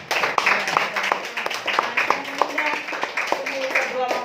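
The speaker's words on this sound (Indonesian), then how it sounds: "Mari kita berikan tepuk tangan yang meriah." Applause at a church wedding ceremony, a crowd clapping steadily for several seconds in a reverberant hall, with a voice speaking over it.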